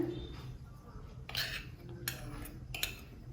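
A cutlet mixture of leftover bhakri with cornflour and gram flour is mixed in a bowl, giving a few clinking, scraping knocks of a utensil against the dish over low background noise.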